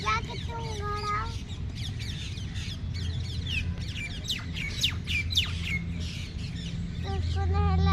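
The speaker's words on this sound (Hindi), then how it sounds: "अब देखो चिड़िया भी आने लगी" Birds chirp and squawk nearby outdoors on a rainy day in a park, with bright repeated calls over steady background rumble and people talking throughout.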